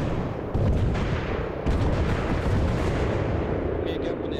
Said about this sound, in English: this is Reach coming in hot with rockets